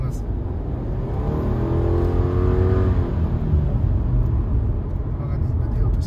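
A Subaru Forester Sport petrol car accelerating in S mode, engine note rising smoothly from inside the cabin over steady road noise, with a voice talking over it.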